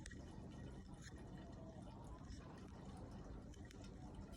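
Water drains from a bird bath back into a fish tank, a continuous soft trickling and gurgling flow at close range with faint dripping, steady throughout.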